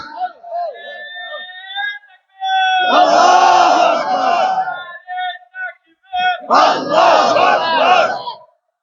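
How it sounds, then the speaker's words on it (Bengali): A rally crowd at an Islamic religious gathering shouts in unison, rising in two loud bursts of massed voices after a lone voice speaks. "কারা কারা চান দুই হাত উঁচু করে স্লোগান দিয়ে আল্লাহরে দেখান"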